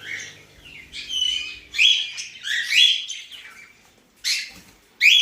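Caged budgerigars, eleven birds with six females and five males, chirp and warble in quick, bright bursts with short pauses between, close and clear, with no voices.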